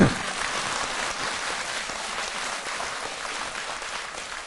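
Congregation at a Sunday Buddhist dharma service clapping together, a soft, even spread of many hands applauding at moderate distance, steady throughout after a brief louder start.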